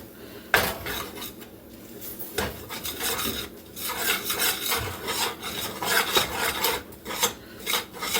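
A utensil stirring flour into gravy in a pan, scraping and rasping against the metal with uneven rhythmic strokes, close and moderately quiet, with no talking.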